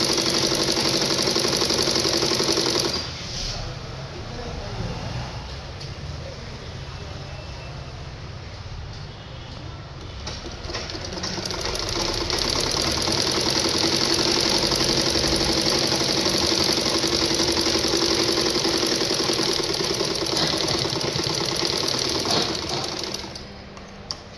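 A sewing machine stitches a line while finishing a chudidar, a long, steady mechanical whirr that dips briefly in the middle before running on evenly.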